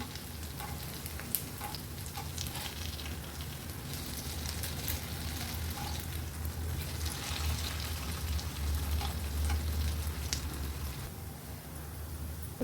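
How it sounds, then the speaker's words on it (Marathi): Moong dal and coriander vadas shallow-fry in a little oil, giving a steady, close, even sizzle throughout, with a few faint clicks on top and no talking. "खूप कमी तेलामध्ये मी फ्राय करते चला आपण याला पलटी करून घेऊया"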